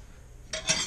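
Porcelain dishes clink in a hotel room, two short bright rattles close by against a quiet background.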